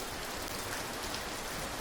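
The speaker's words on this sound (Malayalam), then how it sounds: "നോക്കിയേ നല്ല മഴ കേട്ടോ" Heavy rain pours down in a steady, dense hiss, loud and close with no let-up and no voices.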